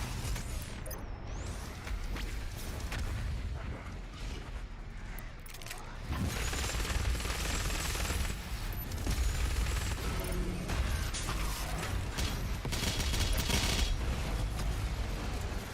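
The BFG 10,000 fires in the PC shooter Doom Eternal, a dense barrage of booming, rumbling blasts and mechanical clatter that rises and falls loudly throughout, with game effects layered over it.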